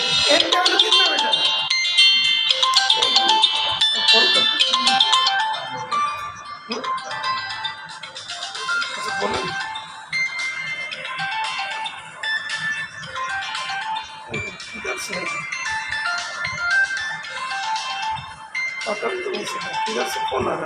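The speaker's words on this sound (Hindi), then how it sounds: "किधर से फोन आ रहा है?" A phone's melodic ringtone plays for an incoming call during a chemistry lesson, a busy, continuous electronic tune carrying on for a long stretch while a voice talks over it.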